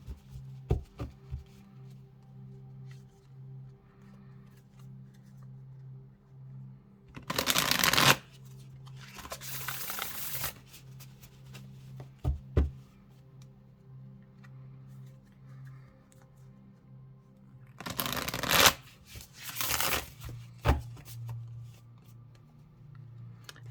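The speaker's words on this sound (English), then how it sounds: "All right, let's shuffle them up and see." A Sacred Bee tarot card deck is shuffled in two loud riffling bursts of cards, separated by quieter taps, handling and a faint background hum.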